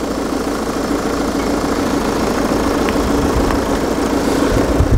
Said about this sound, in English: Turn the engine off, save on fuel.